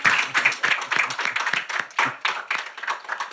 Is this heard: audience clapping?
yes